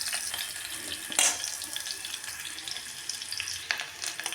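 A little oil frying food in a pan makes a soft, steady sizzle, fairly quiet and continuous, with a couple of brief louder crackles and a clink of stirring.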